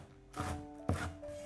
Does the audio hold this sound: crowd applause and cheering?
no